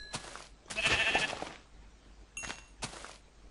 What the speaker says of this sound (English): Oh shit, there's a lot of sheep here. There's so much sheep.